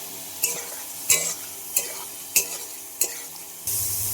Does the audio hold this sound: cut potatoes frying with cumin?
yes